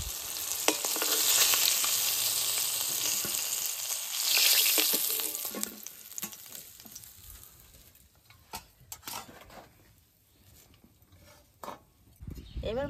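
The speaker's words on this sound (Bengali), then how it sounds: "মাছ ভাজা হয়ে গেছে, এবার তুলে নেব।" Hilsa fish sizzles in hot oil in a pan, a strong crackling hiss for several seconds that then dies down to quieter spits and a few sharp clicks.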